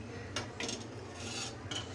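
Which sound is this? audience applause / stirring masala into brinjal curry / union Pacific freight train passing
stirring masala into brinjal curry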